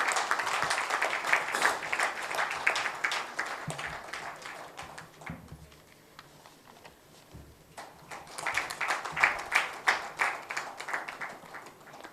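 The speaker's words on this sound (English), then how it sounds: "kindly give a huge round of applause" A room of attendees at a felicitation event gives a round of applause, brisk clapping that fades to near quiet in the middle, then swells again into a second burst of clapping.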